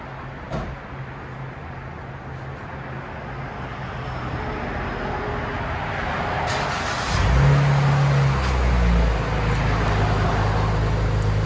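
A Dodge Challenger V6 with its mid resonators removed and rear mufflers kept idles with a steady low exhaust rumble, then revs into a louder, deeper drone near the end, heard close up with no talking.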